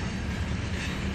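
A freight train rolls past at a station as a short, steady, broad rumble with no talking.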